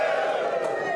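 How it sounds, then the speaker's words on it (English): A comedy club audience cheers and whoops together, a sustained, loud crowd roar filling the whole moment without pause. "Give me a cheer if you know that"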